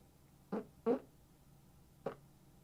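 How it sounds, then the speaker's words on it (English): Three short, quiet farts sound alone in a quiet room: two close together early on, then a single one after a brief pause. "I got a fart."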